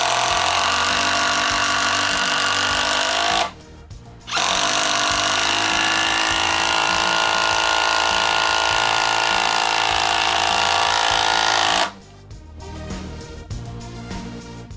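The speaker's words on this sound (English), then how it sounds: "So overall, it's just a really solid impact driver." DeWalt 12-volt impact driver running in two long bursts, a loud steady high whine with a short pause between runs and a brief tail after the second stops.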